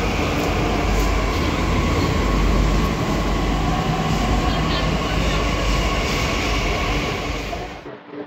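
A Delhi Metro train rides along the Yellow Line with a steady, loud rolling rumble and hiss that fills the whole clip, easing off slightly in the last second.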